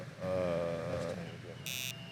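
A game-show style quiz buzzer gives one short, harsh burst right after a voice, which fills most of the moment before the loud electronic tone cuts in.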